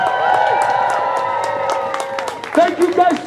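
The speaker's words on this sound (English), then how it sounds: "Round of applause for family and friends of each and every one of us" A rally crowd supporting Palestine claps and cheers together, steady applause with scattered whoops and shouting voices that surge louder near the end.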